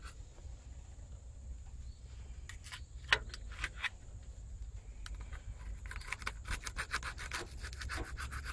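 A scraper rubs and scrapes crud off the engine of a 1967 Ford F100 truck during a water pump install, quiet rasping strokes that start sparse and grow into a quicker run of scrapes near the end.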